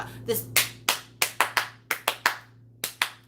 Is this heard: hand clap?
yes